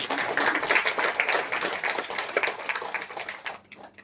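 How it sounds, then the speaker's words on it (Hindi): A gathered audience at a spiritual discourse claps loudly and rapidly for a respected didi, a thick burst of applause that holds strong before thinning and fading out near the end. "इसलिए आदरणीय दीदी के लिए भी जोरदार तालियां"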